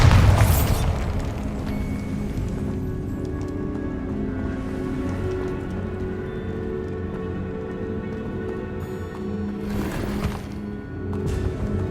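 Bombarda spell blast in the Hogwarts Legacy video game, a loud booming burst at the start that fades into sustained game ambience and tonal music, with another brief burst near the end.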